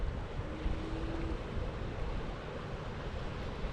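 River water rushing steadily as it rises quickly after upstream rain, its bank eroding; a broad, continuous wash with wind noise, no voices.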